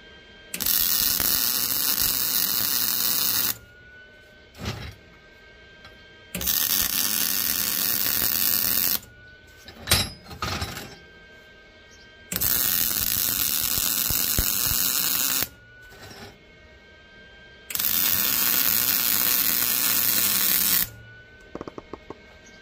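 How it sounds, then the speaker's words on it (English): The sides of homemade Ford tie-down points are welded in four long, loud, crackling, buzzing bursts of a few seconds each, separated by quiet pauses with a faint hum and small clanks. "I'm gonna try to weld these sides."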